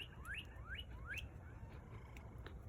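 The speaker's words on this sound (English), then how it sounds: "The bird says good morning too." A bird chirping in the morning among spring azaleas: a quick run of four rising chirps, fairly faint over a soft outdoor hiss, followed by scattered quieter calls.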